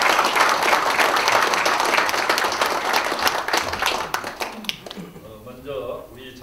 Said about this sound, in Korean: 다 같이 큰 박수로 한번 환영을